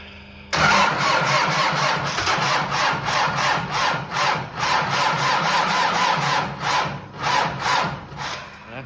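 A 3 kW electric starter cranks an engine in a steady, loud, rhythmic chugging run of about eight seconds without catching, with no talking.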